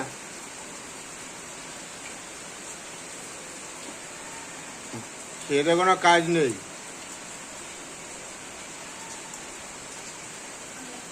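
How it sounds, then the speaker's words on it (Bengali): Steady, soft rain patters throughout, with a brief burst of speech partway through. "ছমছমিয়ে বৃষ্টি নেমেছে"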